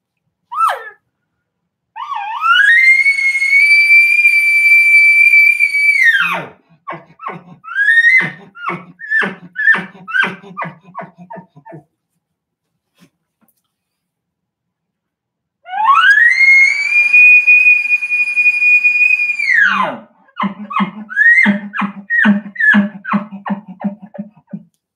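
A straight elk grunt tube is blown twice: each call opens with a rising, high whistling bugle, holds steady, then breaks into a series of short grunting chirps. The calls are loud and close, separated by a few seconds of silence.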